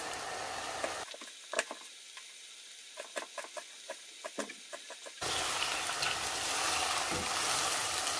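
Meat fries in a pan for Kazakh nan salma, with a loud hiss that drops away to a few faint clicks and pops midway, then returns as a strong, steady sizzle.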